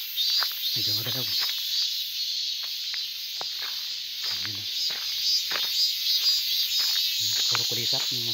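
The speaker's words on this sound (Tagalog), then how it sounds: "Puro kulisap ng maririnig." Dense, steady insect chorus of crickets fills a mountain walk, a continuous high hiss that never lets up, with brief bursts of talk breaking through in a few places.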